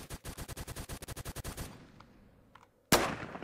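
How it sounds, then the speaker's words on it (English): A rapid automatic burst of gunfire in Roblox Phantom Forces runs as an even stream of sharp shots, goes quiet with a couple of faint distant pops, then one loud shot cracks out near the end. "Where is he shooting me from?"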